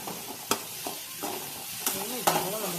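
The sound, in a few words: stirring food in a pan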